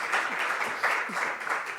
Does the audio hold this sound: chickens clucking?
no